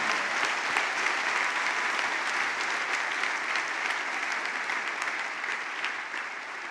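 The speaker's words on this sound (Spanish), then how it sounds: "Vamos a dar un aplauso, Señor." A church congregation applauds during a sermon, a sustained wash of many hands clapping at a moderate distance that holds steady and tapers slightly toward the end.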